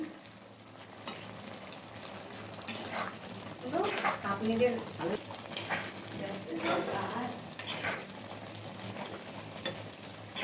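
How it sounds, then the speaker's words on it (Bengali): Fried eggs being stirred into egg tarka in a pan, a soft sizzle with scraping stirs that rise and fall, while a voice talks over the cooking. "ভেজে রাখা ডিম এর মধ্যে মিক্সড করে দিচ্ছি"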